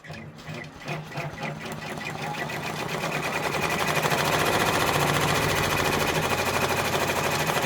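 Embroidery machine stitching the outline of a freestanding pumpkin quilt block, a close rapid mechanical chatter that starts with a few separate stitches and builds into a loud, steady run.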